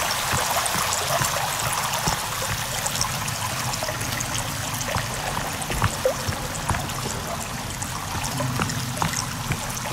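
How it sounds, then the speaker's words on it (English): Water flows and trickles steadily in a video game, a constant splashing rush with small scattered plops, fairly loud and with no voices over it. "There's an awful lot of water here."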